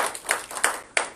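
Church congregation at a Sunday service clapping to acclaim the Lord, with four sharp hand claps in quick succession, close and fairly loud.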